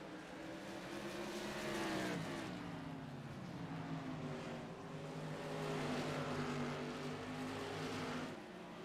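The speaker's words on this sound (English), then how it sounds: "our leader is the fastest car on the track, and he's starting to pull a little gap on Josh Oswald now" Tour-modified race cars roar around the short oval at Southern National, engines droning steadily with rising and falling pitch as the pack laps past, loud and continuous.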